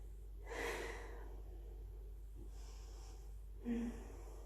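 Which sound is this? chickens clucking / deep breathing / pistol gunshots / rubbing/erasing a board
deep breathing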